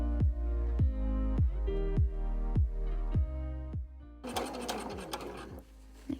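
A sewing machine stitches a 3/8-inch seam on fabric for a zippered box pouch, running in an even series of rhythmic thumping pulses before giving way to a brief burst of rustling fabric handling.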